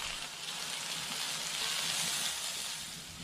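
Chopped garlic and ginger sauté in hot oil in a pan for boti curry, giving a steady, close, even sizzle that holds throughout with no voices over it.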